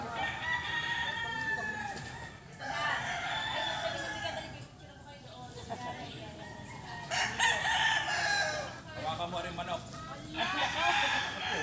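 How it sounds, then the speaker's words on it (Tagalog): Several roosters crow repeatedly with chickens clucking around them on a lanzones farm, fairly close and continuous, the crows rising in bursts over a busy farmyard background. "may mga manok pa."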